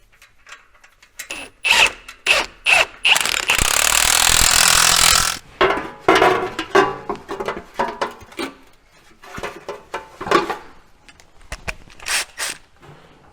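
Power tool tightening the stainless exhaust tailpipe on a 2021-2024 GMC Yukon with the 6.2L engine, close and loud, a sustained rattling burst among short impact-like hits and clanks.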